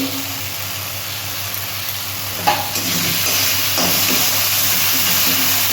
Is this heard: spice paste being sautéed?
yes